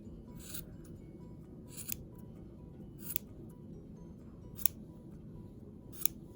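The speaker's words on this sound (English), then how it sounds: "And then we'll just simply trim where needed." Scissors trimming tassels on a DIY wall hanging, giving five crisp, evenly spaced snips about a second apart against a quiet room.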